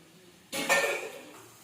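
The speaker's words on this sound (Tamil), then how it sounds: "மாங்காய் நல்லா வதங்கிடுச்சு." A short burst of clattering and sizzling as mango is stirred in a hot pan, rising suddenly and fading over about a second.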